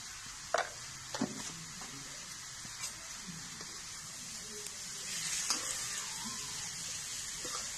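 Roasted pumpkin with turmeric is stirred in a pan on a clay stove, with a soft steady sizzle and a few scraping knocks, and a quiet voice now and then.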